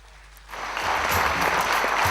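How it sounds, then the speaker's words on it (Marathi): Award ceremony audience bursts into loud, sustained applause, dense clapping swelling in after a quiet start and holding steady to the end. "टाळ्यांचा कडकडाट करूया"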